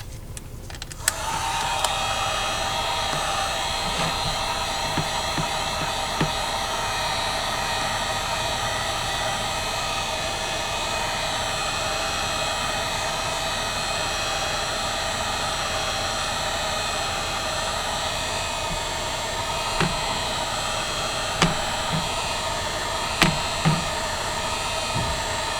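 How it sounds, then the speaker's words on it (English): A heat gun or hair dryer blows steadily to warm the adhesive under an iPhone 12 Pro screen, a continuous loud airy whoosh with a few faint clicks and taps over it. "use the heat gun or the hair dryer to warm out the adhesive"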